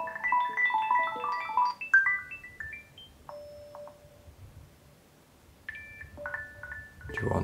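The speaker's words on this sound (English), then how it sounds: "choose what ringtone do you want set for your Pixel 4a" A melodic electronic ringtone from a Google Pixel 4a plays a tinkling sequence of tones, pauses with a sustained note, then resumes with chiming notes, moderately loud and close.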